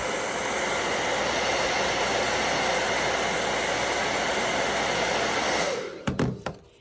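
A hair dryer blows steadily and loudly at close range for several seconds, heating vinyl to soften it, then cuts off, followed by a few brief handling clicks.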